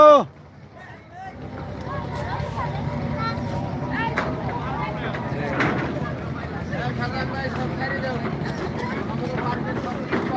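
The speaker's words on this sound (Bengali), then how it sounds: "আমার ট্রলার মাছ দিয়ে যাচ্ছে" A fishing trawler's engine drones steadily over a river near Paturia ghat, with several people talking nearby throughout.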